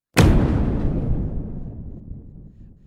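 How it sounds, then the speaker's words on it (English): A massive explosion collapses a tunnel, a sudden deep boom followed by a long rumbling roar of debris that fades slowly over a few seconds, loud and close with no voices. "It was followed by a massive explosion that collapsed the entire tunnel behind them."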